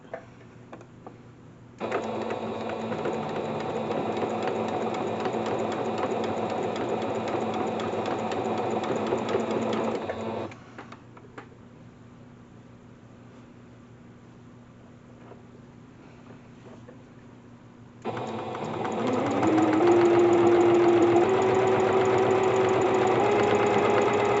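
A sewing machine stitches fabric fall pot holders in two long, steady whirring runs with a rhythmic mechanical drone, separated by a quieter pause with faint background hum.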